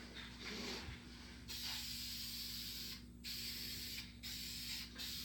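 A Duplicolor spray paint can sprays car interior parts for a Chevy Cobalt in long steady hissing bursts, with short pauses between passes, close and alone.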